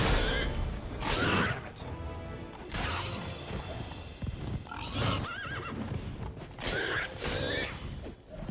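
Horses in The Witcher 3 Wild Hunt: Blood and Wine whinny loudly several times amid clip-clopping hooves and clashing combat sounds, close and busy throughout.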